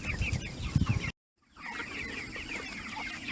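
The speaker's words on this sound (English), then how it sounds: "These are my big chickens that my dad takes care of" Farm chickens cluck in a close, busy cackle that breaks off in a moment of silence and then picks up again.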